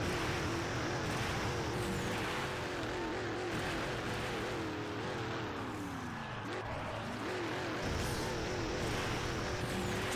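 Monster truck engine roaring in the Monster Jam Path of Destruction video game, a steady loud drone with shifting pitch as the truck revs and boosts, continuous throughout with no break.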